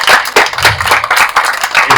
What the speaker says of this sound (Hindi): बहुत जोरदार तालियां बजाएं